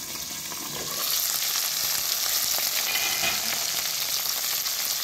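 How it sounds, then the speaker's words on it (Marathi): Potato curry stir-fries in a pan after the lid comes off, a bright, dense sizzle that swells louder after a second and holds steady with light stirring, no talking. "आता परत एकदा आपल्याला हे परतून घ्यायचं आहे."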